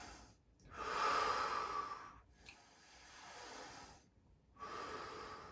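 Heavy breathing after an intense core workout set: loud, rough inhales and exhales in a few long gusts separated by short pauses, close up, with no talking.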